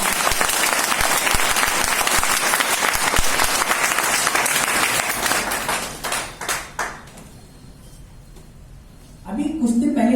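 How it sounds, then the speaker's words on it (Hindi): An audience claps loudly at a college lecture, a dense sustained burst of applause that fades out near the end before a brief clatter of movement returns. "एक बार जोरदार तालियां बजाइए।"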